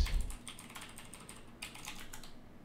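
Typing on a computer keyboard: a fast run of close, light key clicks, briefly pausing and then resuming with a sharper flurry before trailing off, with no voices.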